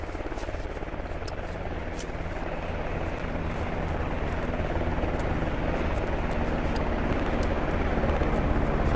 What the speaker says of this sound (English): Chopper is landing.